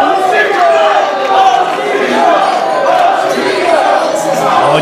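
Wrestling event crowd at a live show, a loud, steady roar of many voices with rising shouts and chant-like swells, continuous and close, while a commentator talks over it.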